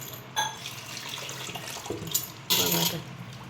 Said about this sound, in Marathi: आता असं पाणी टाकू टाकून ठेवायचं